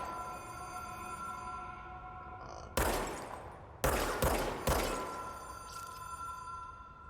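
Gunfire in the video game Control: several sharp, loud shots and short bursts punch through a humming, tonal game ambience, each decaying quickly.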